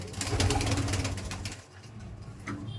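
Pigeons cooing close by during deworming, a low rolling coo over about a second and a half, then quieter rustling and a brief soft call near the end.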